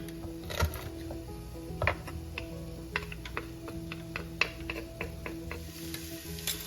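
Food searing in a soup pot with smashed garlic cloves in the oil, giving a steady low sizzle with scattered small ticks and pops, moderately loud and close, no talking.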